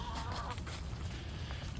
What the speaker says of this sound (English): And there's the chickens.